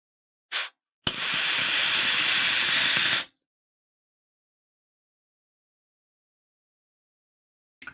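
A long, steady airy draw through an Asgard Mini V2 RDA at 85 watts with airflow wide open, a rough, even hiss lasting about two seconds, preceded by a brief click and followed by silence.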